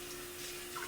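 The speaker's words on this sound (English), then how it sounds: "so I'm gonna wash my hands." Steady hiss of tap water running over hands at a sink in a home kitchen, a brief continuous wash with a faint hum underneath.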